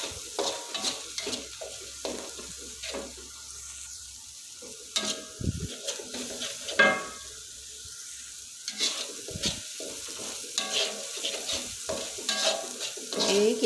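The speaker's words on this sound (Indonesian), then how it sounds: "kita tumis sampai minyaknya keluar" Spices sautéing in hot oil for ayam rica rica, a soft continuous sizzle broken by repeated scraping stirs of a spatula against the pan, close and clear with no talking.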